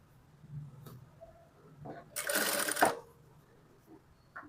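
A sewing machine runs a single burst of stitching along the lining of a frock being converted from a blouse, about a second long, close by, framed by quiet handling noises before and after.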